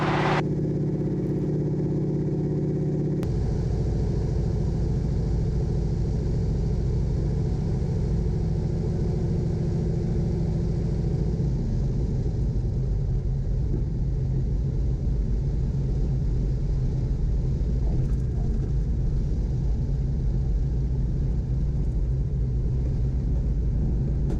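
Light aircraft engine at climb power, 28 inches manifold pressure and 2,000 RPM, heard as a loud, steady droning rumble from inside the cockpit with no breaks.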